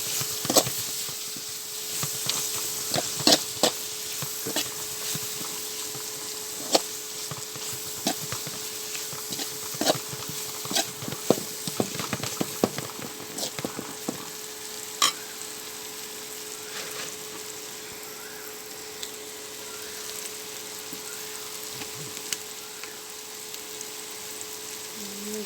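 Garlic paste fries in a pan for a prawn dish. Frequent spoon taps and scrapes clatter over a faint hiss during the first half, then settle into a quieter, steady sizzle with only occasional knocks.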